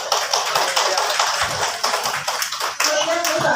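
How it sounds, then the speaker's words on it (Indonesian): Group applause at a school meeting, a steady patter of many hands clapping at close range for the full length, with faint murmuring voices underneath. "Tepuk tangan dulu ya"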